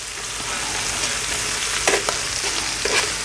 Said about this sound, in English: I'm just going to add my cabbage, just a quick stir